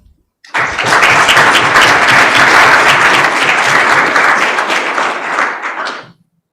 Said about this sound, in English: So I think we can give the authors a round of applause.